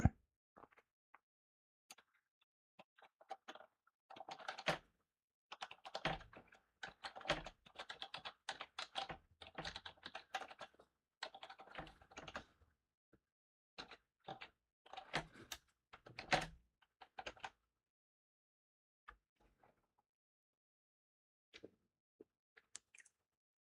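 Fingers typing on a computer keyboard in quick, irregular bursts of soft clicks separated by pauses, faint and close in a quiet room.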